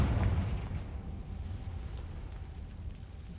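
A Confringo spell blast in Hogwarts Legacy: a loud, rumbling boom at the start that fades into a sustained low roar and crackle, with no talking.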